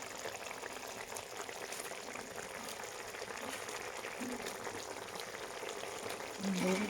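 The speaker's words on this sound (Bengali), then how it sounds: "এখন আমি এতে দিয়ে দেবো ভেজে রাখা মাছগুলো।" Fried bata fish goes into a simmering tomato and poppy-seed gravy, producing a steady, low bubbling sizzle that stays even throughout, with a slight stir or shift near the end.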